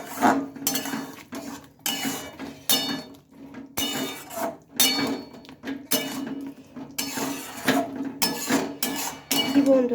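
Chilli cauliflower is stirred in a pan, with a utensil clinking and scraping against metal in irregular bursts over a quiet low sizzle, close and moderately loud.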